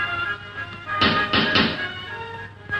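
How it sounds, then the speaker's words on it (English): Knocking on a front door in an old film scene: three firm knocks spaced close together near the middle, set against a quiet room with a faint steady hum. "there's somebody at the door."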